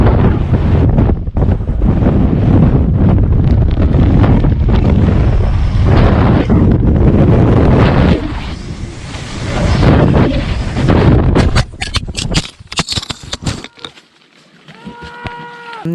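Strong wind gusts roar over a paraglider's action camera, a loud, constant buffeting rush that dips and surges, then breaks into sharp crackles and thumps as the gusts ease toward the end.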